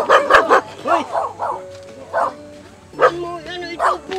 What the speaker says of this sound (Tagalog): Parang ang dami yung aso